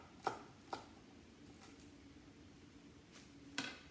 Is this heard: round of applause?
no